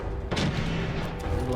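Gunfire in the Fallout 4 video game, a single sharp close shot followed by a booming tail and a couple of fainter later reports over a steady low background.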